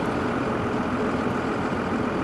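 A Dodge Cummins diesel truck engine idles with a steady, low, rumbling drone, close and constant throughout with no talking.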